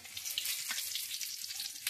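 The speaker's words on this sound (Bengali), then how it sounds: "রসুনটা ফোড়ন দিয়ে দিলাম।" Garlic frying in hot oil with black cumin and chilli: a faint, crackly sizzle with scattered sharp pops and a thin hiss, quiet and close, no talking.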